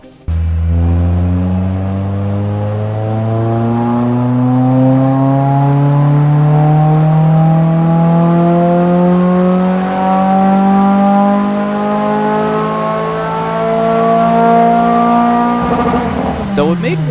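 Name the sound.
Toyota MR2 with 2.5-litre 2AR four-cylinder swap revving on dyno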